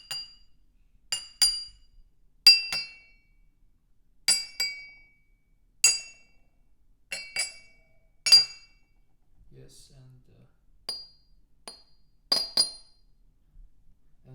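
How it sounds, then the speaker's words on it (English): An ordinary drinking glass at a tea table is tapped in a series of bright, ringing clinks, in single and double strikes spaced a second or two apart, close by, with brief quiet speech in between. "And here we have a ordinary glass."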